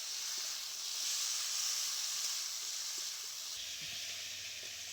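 Bottle gourd stems and potato with chopped tomato sautéing in spices, a steady close sizzle and hiss running throughout with a faint low hum toward the end, no talking.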